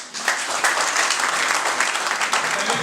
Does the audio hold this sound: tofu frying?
no